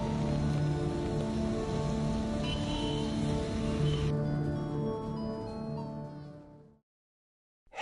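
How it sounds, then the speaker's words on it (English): Rain falls steadily outdoors on a cold night, threatening to turn to ice: a dense, continuous hiss close by that fades out near the end, with faint tonal sounds mixed in. "Let's get inside before this rain turns to ice."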